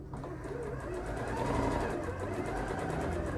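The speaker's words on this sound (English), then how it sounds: "watching me sew around the pocket." A sewing machine with a quarter-inch foot stitches French seams around a fabric pocket. It runs as a steady, rapid mechanical hum for several seconds, close and moderately loud.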